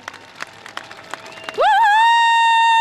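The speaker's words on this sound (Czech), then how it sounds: "Obrovský potlesk" At the Milevsko carnival masquerade, an outdoor crowd celebrating a Czech record scatters claps for a moment before a loud, sustained tonal blare with a rising pitch cuts in and drowns them out.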